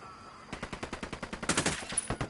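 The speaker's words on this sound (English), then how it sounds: "Opening fire on these fuckers." Rapid automatic gunfire in Ghost Recon Wildlands, a steady burst of roughly fifteen close, crisp shots in quick rhythm, growing louder midway, with no talk over it.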